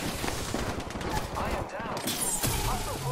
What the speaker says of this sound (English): That's the submachine gun. It go brrr, brrr.